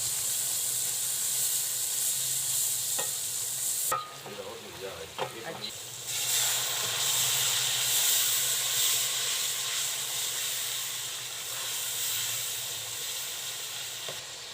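Onion and tomato gravy with cinnamon, black cardamom, salt, chili and turmeric sizzles steadily in a pan, with a few stirring scrapes and a short dip in the hiss before it swells back up.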